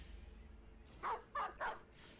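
Three quick dog barks in the video game Battle Brothers, evenly spaced and fairly close, standing alone over a low game background hum.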